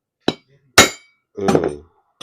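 Hammer strikes on a standard motorcycle wheel hub while knocking out a bearing: four sharp metallic taps, the third a longer ringing clank, close and loud with no talking.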